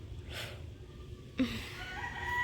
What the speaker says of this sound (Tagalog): Tulad mga tilaok ng manok.